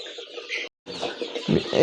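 Free-range country chickens cluck and chatter close by in short, busy bursts, broken by a brief moment of silence.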